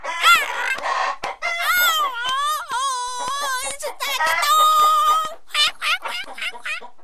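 An animated cartoon chicken squawks and clucks in animated, warbling bursts, mixed with theatrical character voices speaking Vietnamese throughout.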